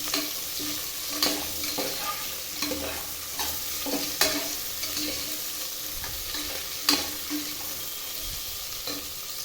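Chopped onions and tomatoes frying in a pan for chicken biryani, a steady close sizzle broken by spoon-stir scrapes and clanks every second or so, no voices.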